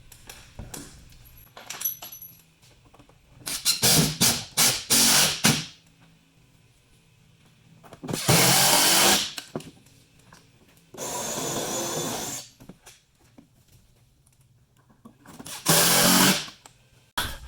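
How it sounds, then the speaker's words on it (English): Power drill piloting screw holes into a wall while assembling a wall bed, several separate loud whirring bursts of a few seconds each, with quiet pauses and light tool handling between them. "Now we'll pilot the holes where our marks are."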